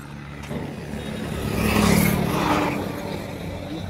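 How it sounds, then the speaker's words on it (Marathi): Vehicles approach along a village road in Maharashtra, a rising engine rumble that swells to a close peak and then fades, with a faint hiss of braking, heard without talk. "थांब गाड्या आल्यात।"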